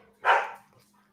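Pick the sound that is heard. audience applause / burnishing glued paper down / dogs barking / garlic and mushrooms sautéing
dogs barking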